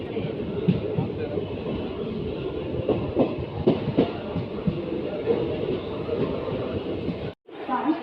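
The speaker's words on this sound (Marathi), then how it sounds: "आता ट्रेन ठाण्यावरून सुटलेली आहे." A train departing Thane station rumbles along steadily with faint rhythmic clacks and murmuring voices, then cuts out briefly near the end.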